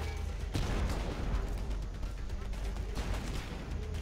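Bursts of gunfire aimed at a tank in Homefront The Revolution, a dense, rumbling barrage of rapid shots with heavy low-end thumps, fairly loud and continuous, with some talk underneath.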